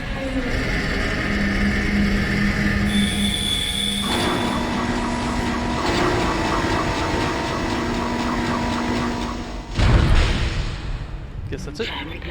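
A rumbling, clattering tram in the video game Dead Space rolls steadily along rails with a low mechanical drone and metallic squeals, loud and close, while a voice talks over it.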